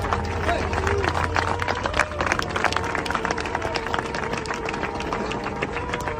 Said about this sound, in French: Vous pouvez d'abord vous applaudir pour ça.